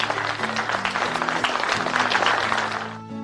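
A group claps along in a circle, a quick steady run of handclaps repeating throughout, with a sung melodic line or tune carrying over the clapping.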